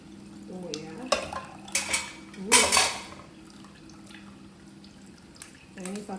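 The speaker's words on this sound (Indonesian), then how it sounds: "Ini airnya, kuahnya kita saring" Chicken broth for Hainanese chicken rice poured through a sieve, with scattered clinks of utensil on pot, brief splashy pours and trickling drips, close by, with a few faint speech fragments in between.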